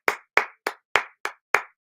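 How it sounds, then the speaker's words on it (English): Six sharp, evenly spaced claps from a single person, close and clear, each with a quick decay, acknowledging B-girl Ami, the first B-girl Olympian and gold medalist, during a breakdancing battle live stream. "just can we give a round of applause for B girl"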